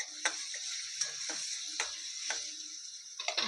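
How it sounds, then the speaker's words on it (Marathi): Onion fries in hot oil while being stirred, a steady close sizzle broken by scraping clicks of the spoon against the pan every half second or so, with no talk. "तेल गरम झालं चांगला. कांदा टाकून हलवून घेते."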